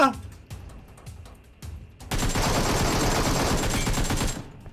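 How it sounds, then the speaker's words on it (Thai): Gunfire in the mobile battle game PUBG Metro Royale: a few sharp single shots, then a sustained loud burst of automatic fire that cuts off near the end. "โอ้ยิงนานมากทุกคน"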